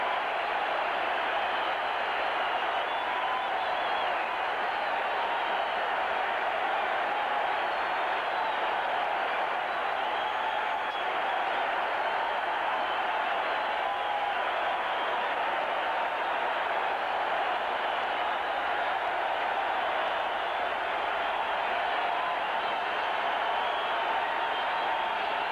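A stadium crowd and football players applaud injured wide receiver Darryl Stingley at a 1979 Steelers–Patriots NFL game, producing a steady, broad wash of clapping and crowd noise that holds evenly throughout.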